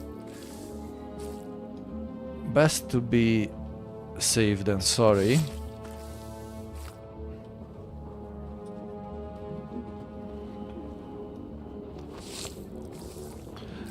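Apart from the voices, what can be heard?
blood being extracted in Dune Awakening video game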